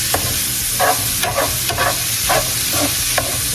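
Ground beef browning in a pan for lasagna meat sauce, with steady close sizzling frying and a run of repeated scraping stirs from a utensil. No voices.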